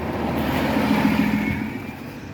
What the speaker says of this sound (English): I have taken a busy street to do this on, because like there's a city bus